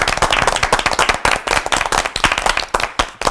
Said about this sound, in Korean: 장로님께 감사의 박수